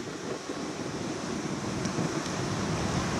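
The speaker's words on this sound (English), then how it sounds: "It's really windy today, so it's very choppy out there. Look at those beautiful cresting waves." Choppy ocean waves cresting on a windy day along the Seattle shoreline, a steady broadband surf roar with wind rumble on the microphone, continuous and fairly loud throughout.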